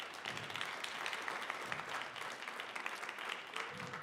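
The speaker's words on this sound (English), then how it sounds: "let me hear a big round of applause for all of our evaluators today" Audience applause at a fine arts event, steady crowd clapping filling the whole stretch at moderate volume without a break, with scattered louder claps standing out from the dense wash.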